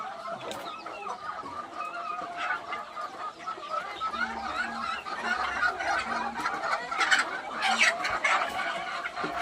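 Native chickens cluck and chatter softly as they eat grass from feeding pots, a cluster of close, overlapping clucks and short calls with a faint low hum in the background.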